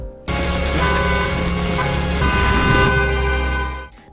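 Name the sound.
car horn honking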